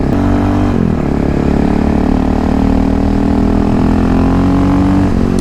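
A supermoto motorcycle, a KTM 625 SMC or a KLX351, accelerates along a twisty road, its engine droning steadily and loudly close by, with a brief drop in pitch near the start as it shifts.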